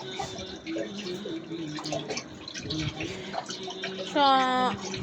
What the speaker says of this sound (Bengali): মিষ্টি কুমড়াটা ভালো করে ধুয়ে নিচ্ছি